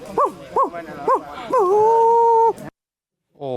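A man imitates a dog howling, giving a few short rising yelps and then a long drawn-out howl that breaks off suddenly, loud and close, before another voice comes in.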